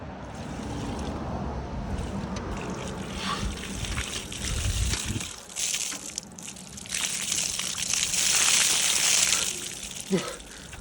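Near-freezing water, about 3 to 4 degrees, is poured from large buckets in heavy splashing gushes and sloshes, close and fairly loud, with people's voices and exclamations mixed in.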